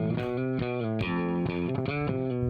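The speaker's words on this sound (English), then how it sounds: "altogether, the bass sounds like this." A bass guitar shaped with EQ and Distressor compression plays a dense, distorted riff of repeated notes at a steady rhythm. The tone is thick and loud throughout, with no voices.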